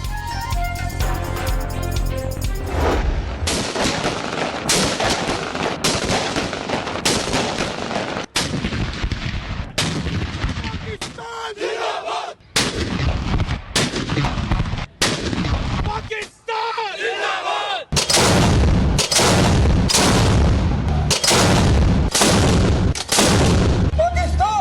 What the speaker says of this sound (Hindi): इस्लामाबाद में 31 और सूबाई दारुल हुकूमतों में 21-21 तोपों की सलामी।